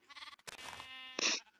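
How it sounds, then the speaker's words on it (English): Pink sheep bleating in a video game, two short wavering bleats heard clearly and alone, fairly close and moderately loud. "A pink sheep! That's rare."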